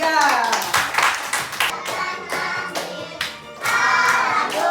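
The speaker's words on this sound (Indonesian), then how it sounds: "Berikan aplaus untuk kelompok 3." A classroom of students applauds a student group after its presentation, with bursts of clapping from many hands, close and fairly loud, with brief pauses between the rounds.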